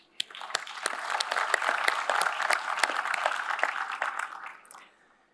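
An audience at a closing ceremony breaks into applause, a sustained wash of many clapping hands that swells quickly, holds steady for several seconds, then fades away.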